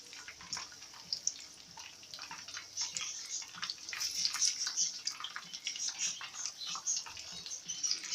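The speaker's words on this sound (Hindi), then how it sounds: "इनको हम बिल्कुल हल्की आंच पर ही फ्राई करेंगे" Chicken cheese spring rolls frying in oil over a low flame, a steady close crackle and sizzle with fine popping that carries on without a break.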